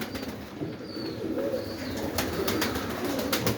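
Pigeons coo in an aviary with low, rolling calls that overlap steadily throughout, joined by occasional soft rustles and a faint higher chirp.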